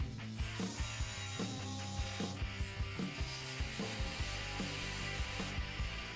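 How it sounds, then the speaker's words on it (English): A Milwaukee M12 2426-21 cordless oscillating multitool, a 12-volt tool, cuts through four nails, giving a steady buzzing drone broken by a regular run of sharp chattering bursts roughly every half second, close and alone. "Here we see it cutting 4 nails to show off its metal cutting performance."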